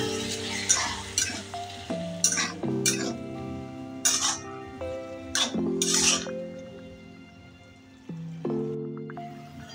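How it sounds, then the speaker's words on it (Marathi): Chopped, washed potato tipped into a pan for fasting bhagar rice and stirred, with close clinks and scrapes of a spoon against metal and a light sizzle underneath, in several uneven bursts. "आता याच्यामध्ये जे आपण बटाटा घेतलेला चिरून आणि धुवून तो याच्यामध्ये मी ऍड करून घेत आहे"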